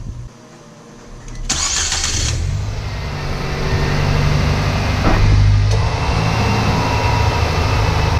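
A 2007-2012 Nissan Sentra engine runs steadily nearby during a radiator coolant flush, a continuous mid-pitched drone with a brief mechanical clunk partway through.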